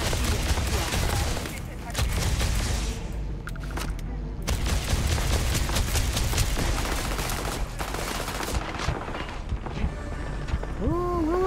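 Rapid gunfire in the video game Starfield: bursts of close shots and mechanical clatter over a noisy backdrop, with someone talking throughout.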